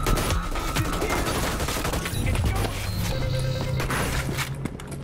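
Gunfire in the video game Hyper Scape: dense, rapid bursts of shots and effects form a loud, continuous barrage throughout.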